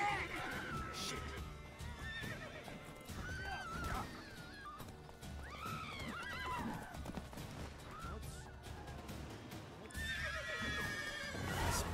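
Roach, the horse in The Witcher 3, whinnies and neighs repeatedly at close range with hoof clip-clops underneath, ending in a loud, high whinny.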